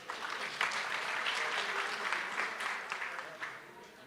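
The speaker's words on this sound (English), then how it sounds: "Let's give them a round of applause" An audience at a parole review summit gives a round of applause, moderately loud clapping with scattered sharp claps that carries steadily for a few seconds.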